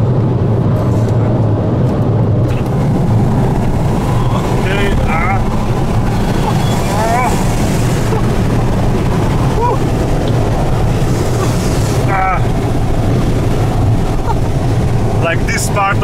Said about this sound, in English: No go, it's too much wind.